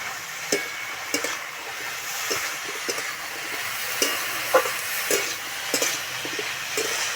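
Ground cumin, turmeric and chilli powder frying with lentils in a pan, a steady close sizzle broken by repeated scraping stirs at an even rhythm, with no talking.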